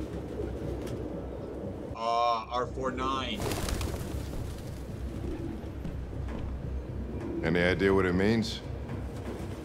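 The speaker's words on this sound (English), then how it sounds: "No human could live with all these fucking pigeons." Pigeons cooing in Detroit: Become Human, two bursts of warbling coos up close in a crowded room, with someone speaking between them.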